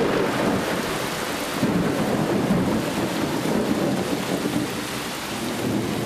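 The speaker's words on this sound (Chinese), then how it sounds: "一個滂沱大雨嘅夜晚，一架的士喺雨中漫無目的咁樣喺度揾行。" Heavy nighttime downpour with thunder: a dense, steady roar of rain fills the whole stretch at an even, loud level, with low rumbling beneath and no voices.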